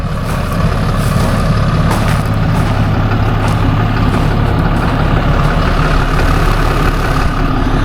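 A Ford F-350 truck engine idles steadily as it warms up, a loud, continuous low diesel rumble that holds even throughout without revving or pauses.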